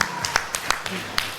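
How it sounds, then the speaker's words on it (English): Scattered applause at an Indian film event honoring the man who made the suit; a handful of sharp individual claps ring out irregularly over a background murmur. "So a big round of applause for him."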